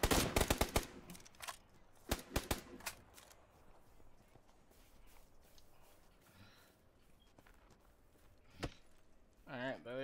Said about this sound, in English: there they are trying to take shots at us